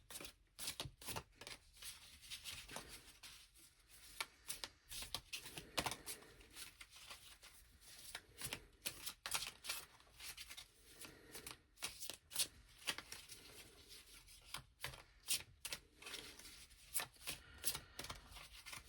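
Tarot cards shuffled by hand, a long run of soft, close riffling and slapping as the deck is mixed over and over, quiet and steady with no voice over it.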